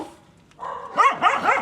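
A dog at an animal rescue in Vietnam gives a quick run of sharp, close barks and yips after a brief quiet start.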